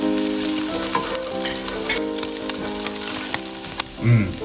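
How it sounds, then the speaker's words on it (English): Garlic sizzles loudly in a hot pan for a mushroom fettuccine, close and continuous, with a spoon scraping and stirring it in a loose, irregular rhythm and a short clunk near the end. "We're gonna start adding some of the garlic in here."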